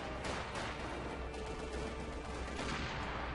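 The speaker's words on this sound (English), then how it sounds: "Taking fire! Shit, we're being shot at!" Gunfire in the strategy game Company of Heroes 2 during a 4v4 battle against hard AI, a dense continuous crackle of rifle and machine-gun fire that stays steady and fairly loud throughout.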